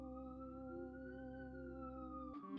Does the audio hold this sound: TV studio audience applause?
no